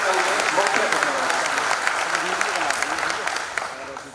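An audience claps loudly to welcome the chief guest at a police trainee cultural programme, a thick, sustained round of applause that eases slightly toward the end.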